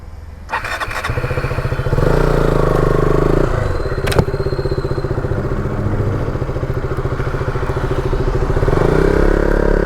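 A KTM Duke 200 BS3 motorcycle fitted with a GT exhaust fires up and rides close by, its loud, raspy single-cylinder note pulsing steadily with a sharp blip midway and a brief clatter.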